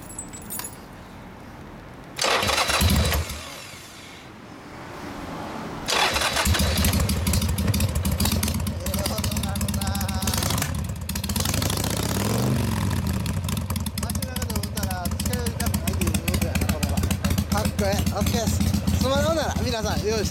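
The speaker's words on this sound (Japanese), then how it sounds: "エンジン音聞かせてもらえますか？" Keys jingle briefly, then a 2006 Harley-Davidson Sportster XL883R with a carburetor and Screamin' Eagle muffler cranks and roars to life, settling into a loud, rumbling idle with a lumpy, uneven beat that continues steadily.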